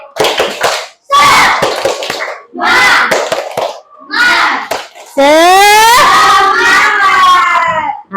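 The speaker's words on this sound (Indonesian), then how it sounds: "Ayo, tepuk semangat." Children doing a rhythmic group clapping chant in a classroom, bursts of claps and chanted voices in short bursts, ending in a loud, drawn-out shout.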